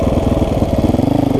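A dirt bike engine runs steadily up close while being ridden, a continuous mid-pitched throbbing drone with a rapid pulsing rhythm and no voices over it.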